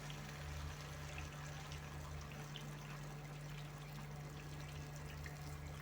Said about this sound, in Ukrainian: І тут макарони я заливаю кип'ятком.